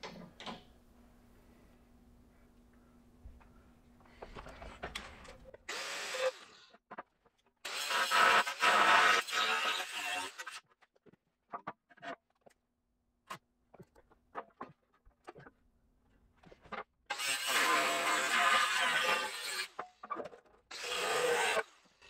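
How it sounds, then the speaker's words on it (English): An angle grinder cutting into the steel frame rail of a 1969 Chevrolet Camaro, loud bursts of harsh grinding in several separate passes with quiet pauses and small clanks between them. "Review on the grinder is it cuts."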